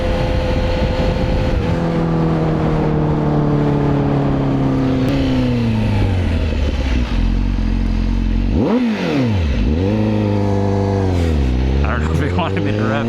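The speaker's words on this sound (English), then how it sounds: "I don't know if he wanted me to rev it, but I did." A Honda CBR1000RR-R Fireblade engine runs loud and close, its pitch sliding down, then swooping up and down through a couple of sharp revs, with heavy wind rush throughout.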